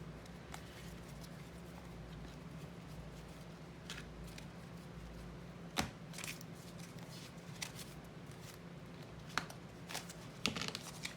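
Tarot cards are shuffled and handled close by, with soft riffling and scattered sharp flicks and taps as cards are pulled, all faint and quiet, with no voice over them.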